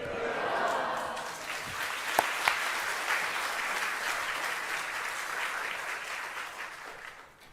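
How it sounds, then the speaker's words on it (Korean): A church congregation claps warmly and steadily for several seconds as a speaker is welcomed to the front, with a few sharper claps standing out before the sound tapers off. "나오시면 박수로 우리 환영하시도록 하겠습니다"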